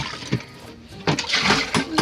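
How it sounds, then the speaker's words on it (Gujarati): Water splashes and gurgles into a container in short uneven pours while buffalo-milk butter is being made, close and fairly loud. "આમાં થોડુંક પાણી નાખી દઈએ"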